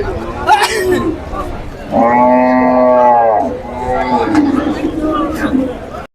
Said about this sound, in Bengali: প্রচন্ড গরু কিন্তু বাজারে এসেছে দেখুন